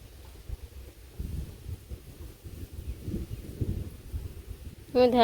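Thunder rumbles low and rolling beneath gusting wind buffeting the microphone, the dull booms rising and fading over several seconds before a brief voice cuts in at the end.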